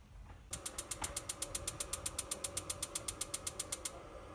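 A gas water heater, just fitted with new batteries, tries to start with a rapid, steady train of about thirty sharp igniter clicks lasting several seconds, close and alone, then stops.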